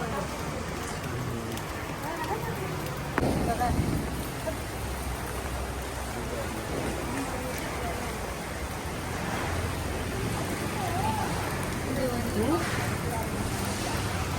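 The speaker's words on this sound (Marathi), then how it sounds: "बघा किती पाऊस आहे संध्याकाळपासून पाऊस पडतोय" Heavy Diwali-evening rain pouring steadily all around, a dense broadband wash with a few faint voices in the background.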